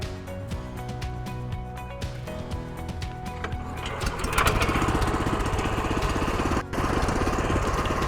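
An Asia walk-behind cultivator engine cranks with a sputter, then catches and settles into a loud, steady, rattling putter close by, with one brief dip.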